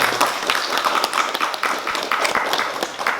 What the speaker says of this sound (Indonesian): Saya berikan tepuk tangan.